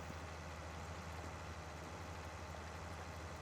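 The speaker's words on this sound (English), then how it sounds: "you'd probably be running the engine wide open, or real close to it anyway" A White 195 tractor engine runs in Farming Simulator 19 while cultivating, giving a low, steady mechanical hum that stays quiet and even with no voices.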